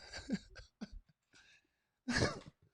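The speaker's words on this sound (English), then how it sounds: "That's a smoker's cough." A smoker's cough: a few short coughs and throat-clearing bursts, then one louder, harsher hacking cough near the end, close by with no talking.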